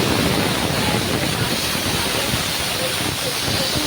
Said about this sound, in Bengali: তো এই শুকনো লঙ্কা ভেজে আর আলু মাখা করব।